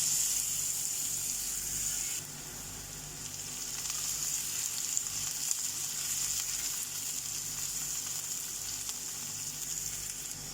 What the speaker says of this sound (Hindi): अब ऑनियन को हमें सौते करना है, इसे फ्राई करना है